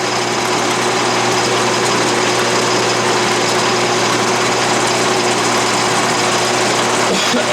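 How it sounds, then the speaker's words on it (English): An Atlas lathe with a milling attachment mills a slot in metal while feeding vertically, giving a steady, loud high-pitched motor whine with a constant cutting hum throughout. "I'm milling a slot."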